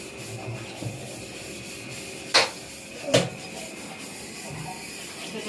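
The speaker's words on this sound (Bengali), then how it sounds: "বাটিটা একটু ধুয়ে নিই, থালা বাটিটা" A bowl and plates are scrubbed during washing: quiet rubbing and brushing close by, with two sharper scraping swipes partway through, under a low steady background hiss.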